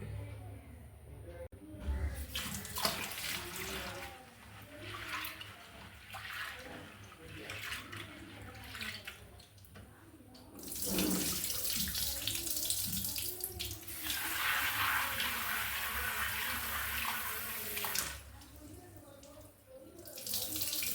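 Running water splashes and swirls as soaked green gram is rinsed in a bowl, with louder gushing bursts midway and soft talking in between.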